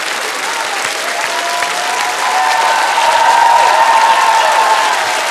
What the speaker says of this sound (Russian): Не просто улыбки, не просто смех комиков, а аплодисменты.